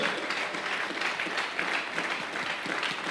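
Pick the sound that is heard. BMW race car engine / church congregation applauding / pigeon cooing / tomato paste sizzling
church congregation applauding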